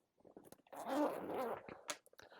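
YKK zipper on a Tomtoc Navigator T-13 tech organizer being pulled open, a close, quiet rasping run lasting about a second amid small handling clicks and rustles.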